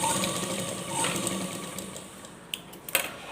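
A sewing machine runs steadily as it stitches along the edge of fabric for a fancy dress, with a soft continuous whir, then pauses near the end, leaving a few light clicks and taps.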